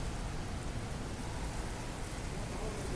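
Steady rain falls outside residential accommodation in Dubai, a continuous hiss of drops on surfaces with no pauses, moderately close and alone without talk.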